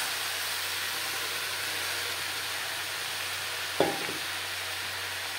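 Radish greens are stirred together with half-cooked eggplant in a pan, giving a steady soft frying hiss throughout, with one sharp knock of the spatula near the end.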